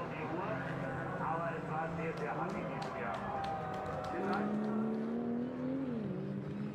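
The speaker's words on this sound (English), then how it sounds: "Number 911 blasts back into the race." The Porsche 911 race car, number 911, at the 24-hour race at the Nürburgring Nordschleife roars through rising and falling gear changes, with its engine note climbing and dropping under steady commentary.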